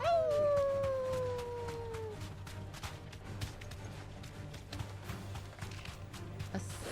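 Dogs howl in Final Fantasy XVI: one long, wavering howl trailing downward over the first two seconds, then a steady stream of crackling, clattering game noise and a low hum for the rest.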